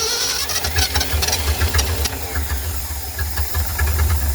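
An old engine sputters to life and chugs unevenly as it picks up fuel, a loud, rough running rhythm with hissing bursts, close by and without talk.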